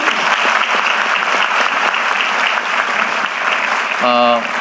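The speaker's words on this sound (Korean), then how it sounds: "박수 한번 주세요." Sustained applause from a large audience at a town hall meeting in Jeju, dense and even clapping that carries to the end, where a voice briefly speaks over it.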